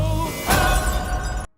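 A sharp burst of breaking glass rings out loudly, followed by a short ringing decay and tinkling shards before the sound cuts off abruptly.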